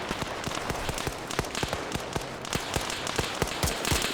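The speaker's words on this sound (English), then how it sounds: "Now I hear gunfire in the town itself." Sharp video game gunshots crack rapidly and irregularly in a Russian town, many reports in quick succession over a steady background hiss, sounding like a firefight nearby.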